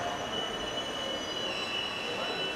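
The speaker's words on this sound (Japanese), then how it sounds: "回送列車到着いたします。" A 24-series sleeper train hauled by EF81 locomotive 138 arrives at Ueno Station, a steady loud rumble with sustained high wheel squeal throughout, close and continuous.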